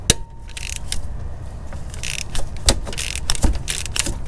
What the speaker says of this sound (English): we're going to loosen the 14mm pivot bolt first